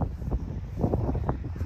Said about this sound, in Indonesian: Berangin gila.